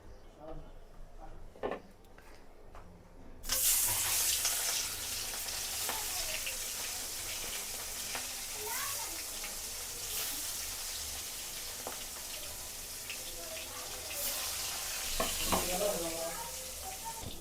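Food fries and sizzles in a pan, a steady hiss starting loudly after a few quieter seconds, with occasional clinks and stirring scrapes.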